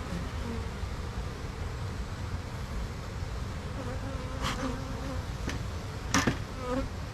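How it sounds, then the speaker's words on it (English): Honey bees swarm with a constant buzzing drone close at hand, individual bees whining past and a couple of sharp taps near the end. "So this one has given me no reason to go through it just because of how many bees there are"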